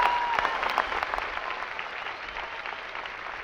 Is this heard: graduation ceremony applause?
yes